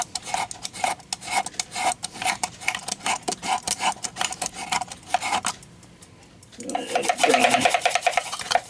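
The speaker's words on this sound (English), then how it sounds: "Scrape the wood." Rapid rhythmic scraping strokes on wood during repair of a Regula 25 camera, firm and close, pausing briefly before resuming more harshly at the end.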